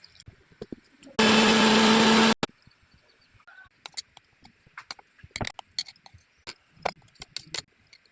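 A mixer grinder whirs loudly for about a second, blending curry leaf chutney with ginger, green chilli and salt, then stops, leaving scattered kitchen clicks and taps.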